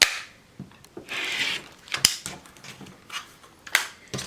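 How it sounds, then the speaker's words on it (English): Sharp, quick clicks of a rotary cutter scattered irregularly over a few seconds while quilting, close by and crisp, with faint rustling between them and no talking. "you hear me clicking my rotary cutter"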